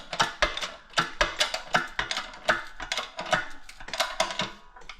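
A hand-pumped press forces metal down into a die, making a quick run of sharp clicking, ratcheting strokes, close and steady, with no voices.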